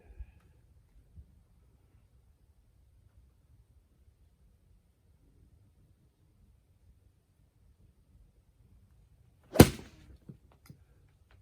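A single sharp club strike on a Fiberbuilt Flight Deck hitting mat, a deliberately mishit shot struck high on the face, lands late after a long quiet stretch, followed by a couple of faint ticks.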